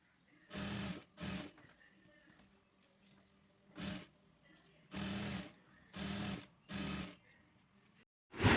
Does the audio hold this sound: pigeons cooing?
no